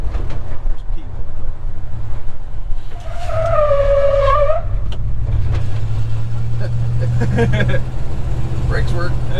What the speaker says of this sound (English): Probably do a brake check out on the bridge. On the bridge. Hard brake.